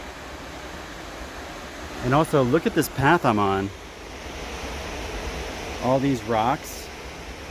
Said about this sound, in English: Wow, I took 20 more steps and looked back, and there's a waterfall. It's huge.